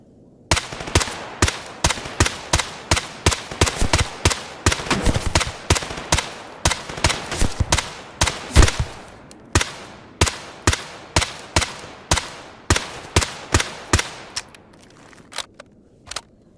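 Rapid bursts of automatic gunfire from the video game Stalker Gamma, loud, close volleys in quick repeated bursts with brief gaps between them, and no talking.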